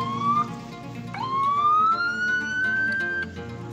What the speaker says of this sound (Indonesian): Kita bunyikan sirine terus